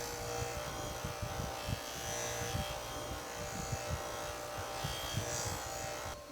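A bench grinder running a finer wheel polishes an aluminum cover, giving a steady, faint buzzing motor hum with a few soft irregular bumps of contact and no pauses.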